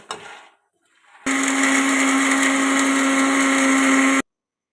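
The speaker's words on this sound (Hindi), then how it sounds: "ये फूल मखाने हम ग्राइंड कर रहे हैं।" A kitchen grinder whirs loud and steady for about three seconds as it grinds roasted fox nuts (makhana), then stops abruptly. A faint voice comes just before it starts.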